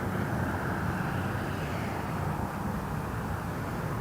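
Southwest airliner on the runway at Las Vegas Harry Reid International Airport, a steady broadband engine roar with wind noise, loud and constant throughout, no voices.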